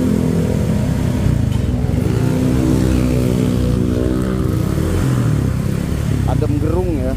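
A Honda Vario 125 scooter engine idles and revs through a custom exhaust, a loud, steady, smooth drone close by, with someone talking over it throughout.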